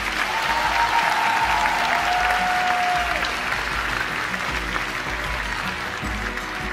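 Loud, continuous applause from a large audience at a university event, dense steady clapping with a faint whistle early on, lasting several seconds without a break.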